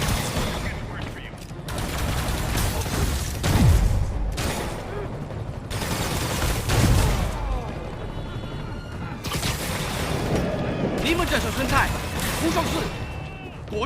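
Gunfire and heavy combat blasts from Marvel's Spider-Man Remastered on PS5, sustained bursts with crashing impacts and low booms throughout, mixed with shouted voices.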